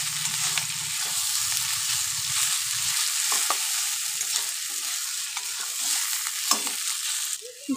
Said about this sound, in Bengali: ভালো করে এভাবে খুন্তির সাহায্যে নেড়ে চেড়ে নিতে হবে